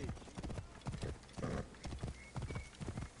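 Horse hooves clip-clop in a steady trotting rhythm with a short whinny in the Assassin's Creed Origins video game, up close and fairly loud, with no talk over them.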